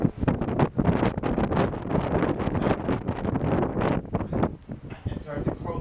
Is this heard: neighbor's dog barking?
no